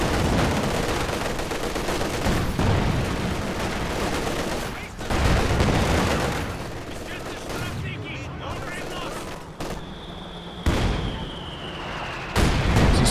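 Mortar and artillery barrage in Company of Heroes 2 fires almost without a break, with dense booms and gunfire rumbling loudly throughout a 1v1 match, under commentary.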